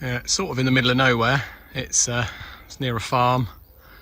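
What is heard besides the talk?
No everyday noises stand out.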